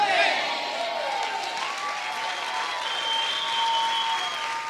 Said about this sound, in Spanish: Si ese aplauso es para el Señor, déselo fuerte.